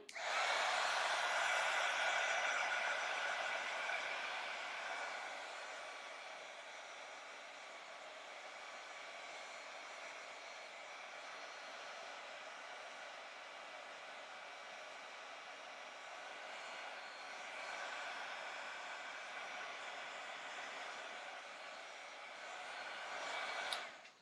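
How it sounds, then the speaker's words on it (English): Heat gun blowing hot air to dry embossing ink on a steampunk-style spellbook craft project, a steady loud whooshing roar held continuously throughout, close and alone. "So I'm going to hurry and turn on the heat gun one more time."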